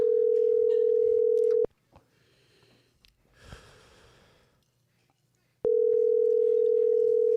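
A steady telephone dial tone plays loud and alone, cuts out for a few seconds of faint breathing and rustling, then resumes at the same level.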